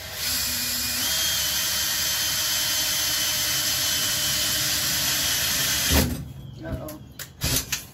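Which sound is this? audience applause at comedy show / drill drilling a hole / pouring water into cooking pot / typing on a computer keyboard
drill drilling a hole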